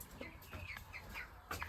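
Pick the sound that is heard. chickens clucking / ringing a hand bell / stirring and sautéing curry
chickens clucking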